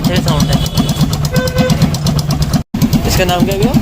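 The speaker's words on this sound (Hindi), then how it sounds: "तो ये बाइक की बिना साइलेंसर की साउंड है।" A motorcycle engine labelled MC Racer runs with no silencer fitted, a loud, rough, rapidly pulsing exhaust close by that stops for a split second, with people talking over it.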